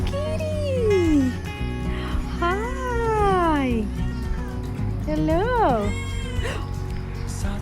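A cat meows several times in drawn-out rising and falling calls, close and clear, while a person greets it briefly.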